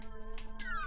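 Pikachu's cry in the video game Pokémon Snap: a short, high-pitched cartoonish creature cry, two quick bright bursts followed by a rising-then-falling squeaky call over a steady low background tone.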